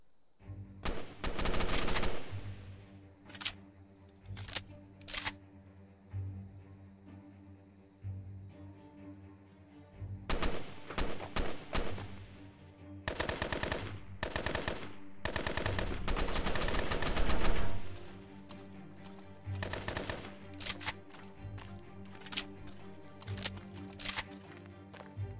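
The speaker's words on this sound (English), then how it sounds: "There's a fucking bot shooting me from behind." Rapid bursts of gunfire from a bot shooting in the Roblox game Fallen Survival, loud and close, coming in repeated volleys with brief pauses over a steady game hum.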